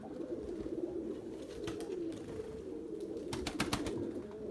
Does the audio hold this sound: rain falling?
no